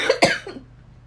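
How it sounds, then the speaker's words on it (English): One sharp allergy cough, close and loud, followed by a short softer catch of breath and then quiet. "I'm gonna get that allergy cough."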